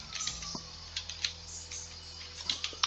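A computer keyboard being typed on in short, irregular bursts of light clicks, close and fairly clear, with no talking.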